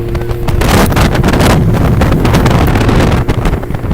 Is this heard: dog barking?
no